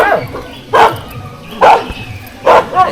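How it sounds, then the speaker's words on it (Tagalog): A dog barks three times in sharp, evenly spaced bursts, fairly near, at a house undergoing renovation, with low background noise between the barks. "Ay, aso na rin. May aso na rin."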